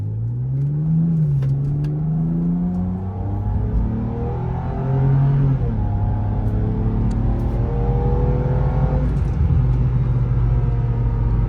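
A BMW E90 engine in sport mode revs and holds at high RPM, a loud, steady mechanical drone with rising and settling pitch, close by and continuous.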